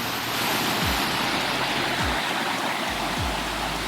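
A waterfall in Quebec roars with a dense, constant wash of rushing water, loud and unbroken throughout, with a few low thumps underneath.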